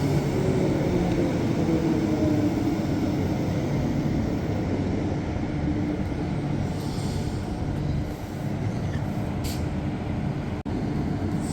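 An EMU 57 and EMU 41 electric passenger train pulls into Rocklea station with a steady low rumble and a fading whine, followed by a brief hiss of air near the end.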